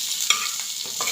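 Flat beans fry in a pan, a bright constant sizzle broken by a few quick scraping stirs of the spatula, close up with no voices.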